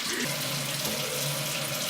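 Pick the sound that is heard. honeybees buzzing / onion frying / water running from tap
water running from tap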